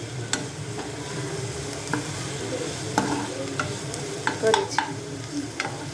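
Onion, green garlic and a chili sizzle and fry in hot oil for a tempering, with steady stirring scrapes and a few sharp clinks over a continuous frying hiss, close up; a voice speaks briefly.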